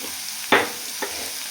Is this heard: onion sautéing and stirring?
yes